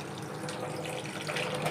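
Water runs steadily from a tap into washed raw chicken pieces in a kitchen, a continuous close splashing flow without pause.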